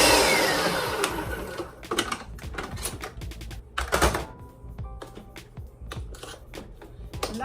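A blender or food processor whirs through walnut and cauliflower taco filling with chipotles in adobo added, running in loud bursts with short pauses and uneven clatter over about seven seconds.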